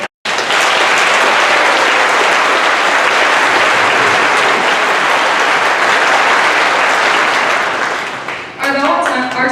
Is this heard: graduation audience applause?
yes